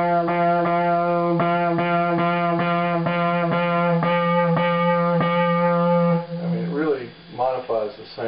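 A buzzy modular synth tone in a duophonic patch pulses in a steady fast rhythm, growing thick and gritty as overdrive is pushed harder, then breaks into warbling, wavering squeals toward the end.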